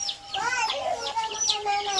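Rapid high-pitched peeping from native village chicks, many short cheeps overlapping in a busy, continuous chorus close by.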